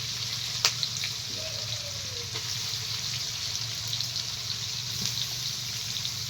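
Chicken and onion frying in oil over a wood-fired clay stove, a steady soft sizzle and hiss throughout, with a few faint clicks and clatters of utensils and no talking.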